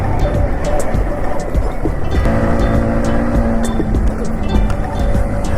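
Yamaha MT-15 motorcycle revving while stuck in mud off-road, a loud rough engine roar with sustained revs near the mic, mixed with rider chatter.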